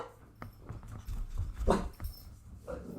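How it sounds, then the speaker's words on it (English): A dog whimpers and pants close by indoors during a quiet home yoga session, soft breathy pants broken by a few thin whines and small mouth sounds. "Sorry for the dog."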